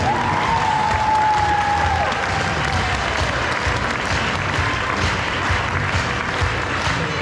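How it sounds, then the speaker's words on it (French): Festival audience in a hall applauding a guest after an introduction, broad sustained clapping with some crowd noise, loud and continuous from start to finish. "Applaudissements."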